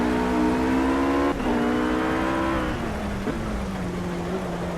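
A RUF race car's engine drones steadily in wet racing conditions in the Project Cars game, its pitch sliding down through gear changes with a brief shift break, over a constant hiss of rain spray.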